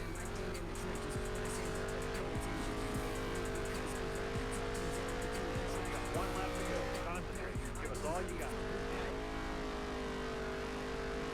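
Race car engine in NASCAR Heat 3 at Texas, droning steadily at high revs, rising as the throttle is mashed, with a person talking over it throughout.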